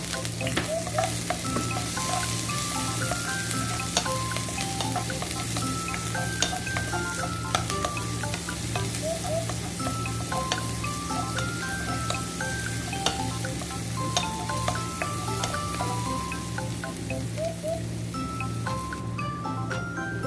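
Onion and garlic frying together in a pan for a Filipino chilli-in-coconut-milk dish, a close, continuous crackling sizzle with occasional stirring scrapes and faint tonal background music throughout.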